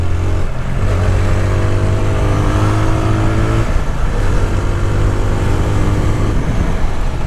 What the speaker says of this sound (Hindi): देखो, ये मोटरसाइकिल ऐसा है ना कि 160 सीसी में भी ये बहुत भागता है।